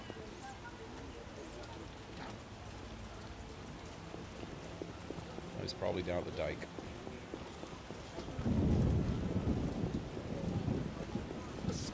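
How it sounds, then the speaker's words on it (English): A steady rain downpour hisses in The Witcher, with a low rumble of thunder swelling toward the end and a voice speaking over the storm. "What a downpour."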